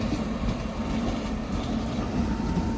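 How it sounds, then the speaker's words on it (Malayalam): Ernakulam–Patna Express pulling into Wadakancheri station, a steady low rumble of rolling rail cars with faint wheel noise, continuous and moderately loud throughout, no voices. "അങ്ങനെ അതെ നമ്മുടെ ട്രെയിൻ ഇങ്ങനെ വന്നുകൊണ്ടിരിക്കുകയാണ് സ്റ്റേഷനിലോട്ട്"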